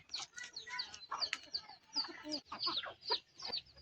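Several village hens cluck in rapid, overlapping bursts nearby in a rural Bangladeshi yard, busy and continuous.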